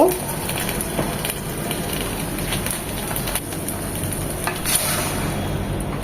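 Spice paste of turmeric, chilli and roasted cumin loosened with hot water, sautéed for a hilsa and taro curry, giving a loud, continuous close sizzle and bubbling with a few scraping stirs, no speech.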